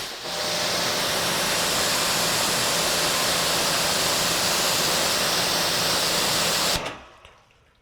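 Water from a hose poured over a car's bare, freshly cleaned panels, a loud steady rushing hiss that runs without a break for nearly seven seconds, then cuts off abruptly into quiet.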